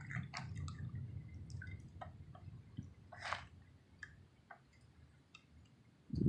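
Transmission fluid pours slowly into a gallon jug during a transmission filter change, making a quiet low trickle broken by scattered drips and small ticks, with a louder splash at the very end.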